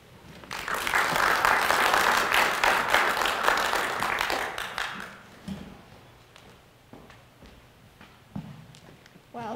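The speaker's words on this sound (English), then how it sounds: "Ladies and gentlemen, please give a round of applause for Nicole Howe." An audience at a university storytelling event applauds a student presenter. The clapping swells, holds for several seconds, then thins to scattered claps and footsteps as things quiet down.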